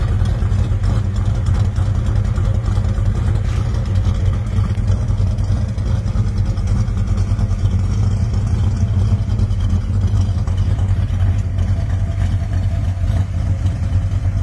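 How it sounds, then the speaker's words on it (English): A 1967 Plymouth GTX with a Comp 292 camshaft idles with a steady, lumpy, throbbing rumble that stays constant and close throughout. "Listen to that cam."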